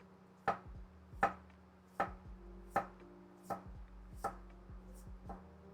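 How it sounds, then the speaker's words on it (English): Sharp knife slicing herbs as thinly as possible on a cutting board, with about nine crisp, evenly spaced cuts that ring out close and alone, each followed by a soft knock of the blade on wood. "We're gonna try to shave this or slice it as thin as possible."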